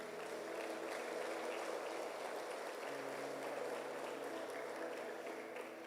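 Faint, continuous applause from a church congregation, a soft steady patter of clapping with a low hum underneath.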